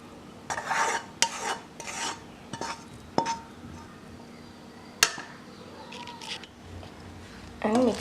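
Soya chunks being stirred into boiled noodles, with scraping and clinking strokes of a utensil against the dish in uneven bursts, close and fairly loud, with short quiet gaps between.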